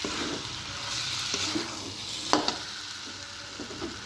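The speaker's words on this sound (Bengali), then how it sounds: "ডালটা একটু কষিয়ে নিতে হবে মশলায়।" Mung dal sautés in spice paste in a pan while being cooked for chicken curry, a low steady sizzle with a few scraping stirs and one brief sharp utensil clink, close and alone.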